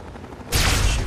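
A sudden loud blast of gunfire at a turret in Fallout 3 cuts in halfway through a low background hum and continues as a dense burst to the end.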